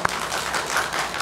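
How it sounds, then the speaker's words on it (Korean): Members of a church congregation clap in steady, continuous applause to welcome a newcomer at a family worship service, a sustained roomful of hands with no talking over it. "우리 박수로 좀 하늘이 환영하겠습니다."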